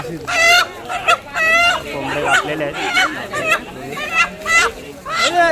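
At a village temple fair, several chickens cluck and squawk close by in repeated bursts, with a rooster's crow rising among them and faint voices in the background.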